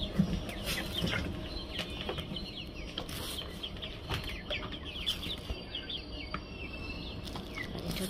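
Tiger chickens clucking and calling around a farm yard during morning feeding, with scattered wing flaps and insect buzz, a steady busy backdrop of fowl sounds without talk.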